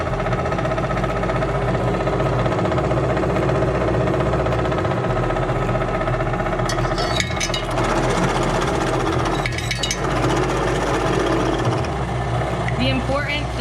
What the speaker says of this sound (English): we're going to start the unit, and I'm going to use a gap width of 1 millimeter.